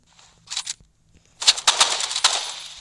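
Bursts of gunfire in the shooter video game Rivals: a short volley, a pause, then a rapid string of sharp close shots without talk.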